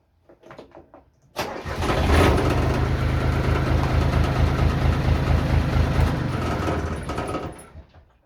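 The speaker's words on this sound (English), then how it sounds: "So to start the tractor, you have to put the foot on the clutch." A tractor engine on a Portuguese farm cranks and catches after a second or so, then idles at a steady, fairly loud chug before winding down near the end.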